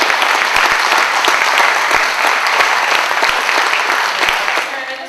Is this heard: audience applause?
yes